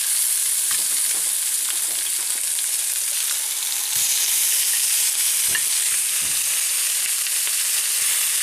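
Corned beef and onions fry together in a pan with a loud, continuous, close sizzle, broken by occasional soft knocks of a utensil moving the meat.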